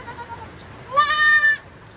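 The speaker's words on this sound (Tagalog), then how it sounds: "Akala ko yung anak lang ni Kulot yung nag-iingay" A native goat that has just given birth to a kid, on a farm, lets out a single loud, close bleat of about half a second, with faint quieter bleats before it.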